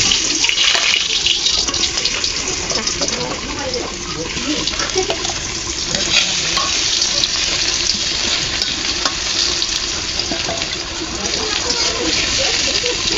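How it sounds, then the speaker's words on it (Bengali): Pieces of pointed gourd (potol) fry in oil in a wok with a loud, dense, unbroken sizzle that carries through the whole stretch with no pauses. "ভাজার জন্য কড়াইতে পরিমাণ মতো তেল দিয়ে দিলাম, পটলগুলো দিয়ে দিচ্ছি।"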